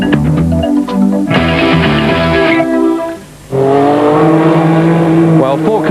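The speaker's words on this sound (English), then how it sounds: "4 kilometers in a car is nothing, especially when you're going as fast as the Mitsubishi Pajeros" A Mitsubishi Pajero rally car at the 1998 Dakar Rally races past with a loud, rising engine roar and shifting revs, dropping briefly before surging again close by.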